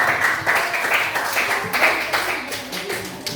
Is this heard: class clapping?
yes